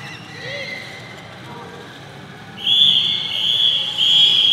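A referee's final whistle ends a Division 2 football match between Montpellier and Nantes, sounding as a few loud, sustained shrill blasts over crowd noise and a commentator talking.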